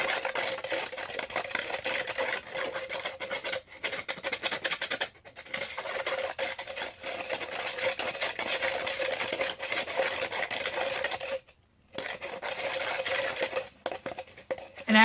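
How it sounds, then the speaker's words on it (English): Stirring a can for can art: a continuous raspy scraping and rubbing, steady and fairly close, with a few short pauses in the motion. "this whole first hour is just gonna be me stirring"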